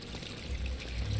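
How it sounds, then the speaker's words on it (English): Water pours steadily in the game Amnesia with a low gurgling rush, close and fairly quiet, with no voices. "Ah, a little water to clean my face."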